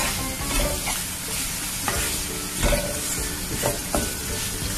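Kerala-style beef fry sizzles loudly with garlic and curry leaves as a spoon scrapes and stirs the pan in repeated strokes, up close, with no one speaking.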